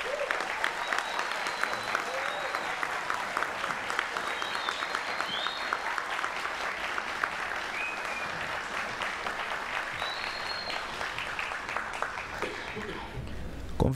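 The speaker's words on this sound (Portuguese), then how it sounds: "Senhoras e senhores, com muitas palmas, saudamos os mais novos formandos pela PUC Campinas." At a PUC-Campinas graduation ceremony, a crowd claps steadily for the new graduates in long, even applause with a few scattered voices and cheers.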